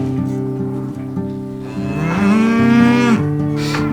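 Ankole cattle moo near a pond where a large herd gathers to drink, with several overlapping low calls and one long, rising moo standing out in the middle, no voices.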